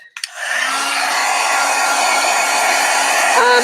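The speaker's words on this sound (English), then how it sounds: "All right, let me dry this." A heat tool blows steadily while drying a freshly worked art journal page, switching on with a click and then whirring loud and constant, with a faint pitch change near the end.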